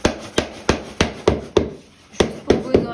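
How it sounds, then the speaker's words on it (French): Sharp wooden knocks from a hammer tapping parquet flooring into place, about nine hits in a quick, slightly uneven rhythm with a short pause midway, close and crisp. "c'est le dernier coup de marteau."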